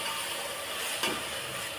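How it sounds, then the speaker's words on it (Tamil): Tomatoes with a pinch of rock salt sauté in a pan for a biryani, giving a steady close sizzle and hiss with one brief stir or scrape near the middle. "இப்போ இது நல்லா வதங்கட்டும்."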